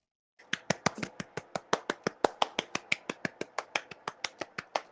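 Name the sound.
hand clapping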